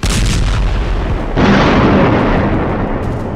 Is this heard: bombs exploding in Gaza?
yes